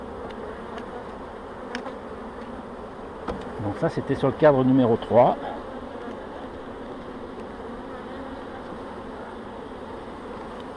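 Many honey bees buzzing over an opened hive during a spring inspection of the brood frames, a continuous drone with a burst of louder close buzzing passes in the middle while someone talks.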